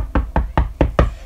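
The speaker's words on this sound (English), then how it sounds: "Oh, look a house I can knock on." Five quick, evenly spaced knocks rap on a house door, loud and close, in a short burst with nothing else heard.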